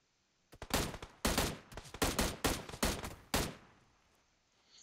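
Gunfire in PUBG Mobile, a rapid volley of sharp, loud shots in quick bursts over about three seconds that then fades into quiet, with no speech.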